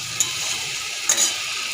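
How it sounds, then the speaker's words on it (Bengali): A spice paste fries in oil with a steady, close sizzle, broken by two quick stirring scrapes in a short burst with no talk. "মশলাটা বেশ হয়ে এসে তেল বেরিয়ে গেছে"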